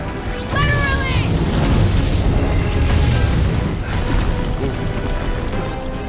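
Explosion from incoming fire in Marvel's Guardians of the Galaxy video game, a loud sustained booming rumble with crashing debris and whooshing effects, layered under game music and character voices.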